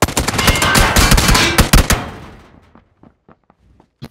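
A video game gun fires a rapid, loud burst of automatic shots for about two seconds, then trails off into a few scattered, fainter clicks and knocks.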